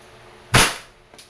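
A WE Airsoft 4.3 Allosaurus airsoft gun fires once on semi-automatic, a sharp loud snap with a brief decaying tail, followed a moment later by a much fainter second pop.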